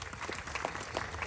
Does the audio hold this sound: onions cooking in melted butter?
no